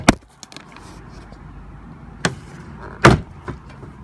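Plastic trim-panel clips pop loose from the front door of a Mercedes-Benz E-Class C207, giving a few sharp, separate snaps with quieter handling noise between them, close up.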